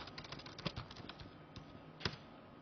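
Someone types on a computer keyboard during a programming session, a quiet run of soft, irregular key clicks with a couple of sharper taps standing out.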